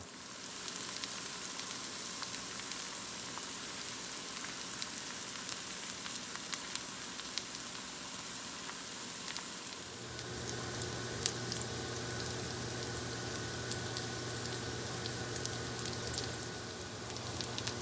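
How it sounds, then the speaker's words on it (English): Kielbasa sausage sizzles steadily in a cast iron pan, a continuous close crackle with scattered pops that thickens and grows louder partway through, with no talking. "I'm going to fry that up in cast iron."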